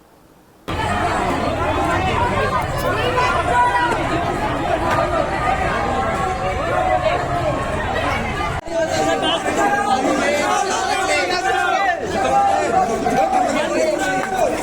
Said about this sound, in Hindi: मार्केट में जब हम पहुँचे तो यहाँ पे बच्चों ने आज काफ़ी भीड़ इकट्ठा कर रखी थी। ये कुछ रैलियाँ निकाल रहे थे।